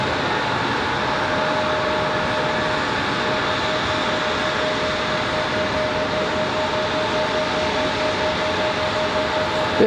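An American Airlines plane lands on runway 5 left at Raleigh-Durham airport, a steady distant jet roar with a faint whine holding evenly throughout.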